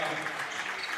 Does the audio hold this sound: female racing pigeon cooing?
no